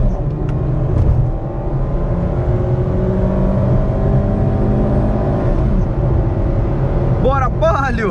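A Fiat Palio Sport 1.6 accelerating hard through a cone test run, its engine a loud, close, sustained drone with revs climbing steadily, and a voice briefly audible near the end.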